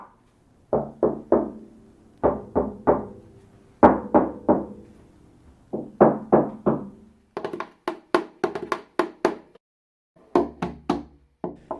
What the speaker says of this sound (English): the bass is, it's makes a better drumming sound than knocking on the violin